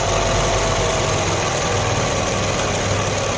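An embroidery machine runs with a steady, loud mechanical hum and rapid rattling vibration, unbroken throughout, with no voices.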